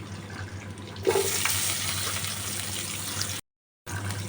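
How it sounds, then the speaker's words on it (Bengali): Vegetables are dropped into hot, smoking spiced oil for a Bengali fish shukto, setting off a sudden rush of sizzling that stays loud and steady, close by, until a brief silent gap near the end. No voices. "গ্যাসটা একটু কমিয়ে দিয়ে আমি সব আনাজগুলো দিয়ে দিচ্ছি।"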